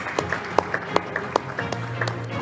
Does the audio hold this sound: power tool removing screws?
no